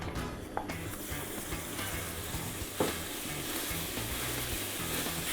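Ground kefta meat frying in table oil in a pan for an Asian-style tantanmen ramen, a steady soft sizzle throughout with a couple of light clinks or stirring taps.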